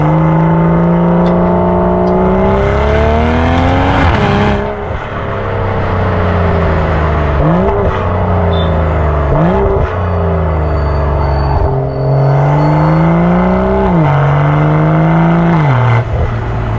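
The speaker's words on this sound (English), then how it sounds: "Pair that with the Miltech full system exhaust and this thing sounds glorious." A tuned BMW M340i LCI with a Miltech full system exhaust revs and accelerates, its loud deep exhaust note rising and falling through several gear changes, close and continuous with no talk.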